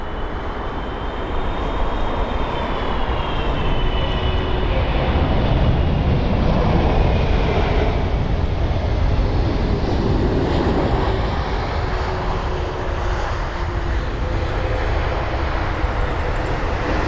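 Turkish Airlines flight TK1985 from Istanbul lands on runway 27 right at London Heathrow, a loud, steady jet roar with a slowly falling engine whine that holds for the whole stretch, with no voices.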